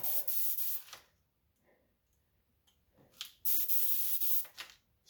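An airbrush spraying flat black paint onto a model Freightliner dump truck gives close hissing bursts, one long burst then a pause, with faint clicks before a second burst.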